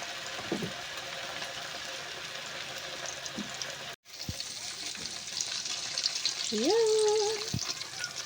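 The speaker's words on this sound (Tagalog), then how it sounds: "magluto naman ulit si Sir ng pork chop" A pork chop fries in a pan, giving a steady close sizzle throughout, with a brief break midway and a tonal whine rising near the end.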